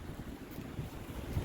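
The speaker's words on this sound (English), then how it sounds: "excuse the wind. You know, it's damn windy today." Strong outdoor wind buffets the microphone in a low, continuous rumbling roar with uneven gusts throughout.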